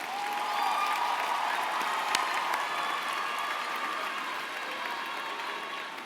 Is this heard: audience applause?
yes